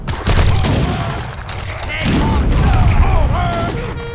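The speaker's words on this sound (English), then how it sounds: "That was a very good shot." Cannon fire from a siege battle in the Age of Empires strategy game, with deep booming blasts rumbling under a continuous bed of battle noise and a speaking voice throughout.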